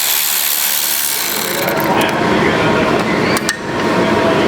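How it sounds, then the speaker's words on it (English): An electric ratchet backing bolts out of the Vanos unit on a BMW E46 M3, giving a loud continuous whirring buzz with a brief dip in pitch and level midway. "once it's loose, I'm backing it out with the electric ratchet to save some time"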